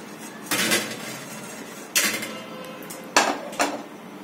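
A garlic bread slice with melted cheese, made without an oven, is set down on a plate, giving four hard clunks of crockery, two spaced apart and a quick pair near the end, over steady kitchen background noise.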